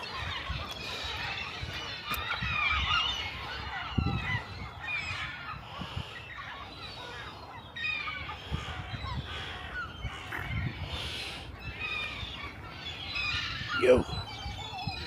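Geese and other birds gather at a feeding spot by the Stour Bridge in Musselburgh, honking and cawing repeatedly at mid distance, scattered calls over outdoor ambience with some people talking nearby.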